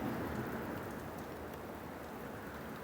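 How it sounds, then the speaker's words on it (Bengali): Heavy monsoon rain pours steadily, a dense, even hiss of drops hammering surfaces without pause and no voices over it. "এই জায়গায় সেই বৃষ্টি হইতেছে গাইস, সেই বৃষ্টি"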